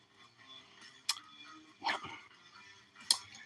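A husky barks a few times at a distance, short sharp bursts separated by quiet gaps in an otherwise calm room.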